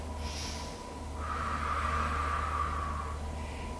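One long, deep breath during a yoga flow, a steady breathy rush that swells and holds for a couple of seconds against a low background hum, close and alone.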